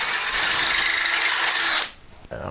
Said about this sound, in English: So we're going to drill through the small hole here